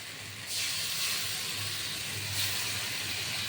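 Water poured into a hot pan with fried cashew paste and potol bursts into a loud, steady steam hiss that continues unbroken to the end.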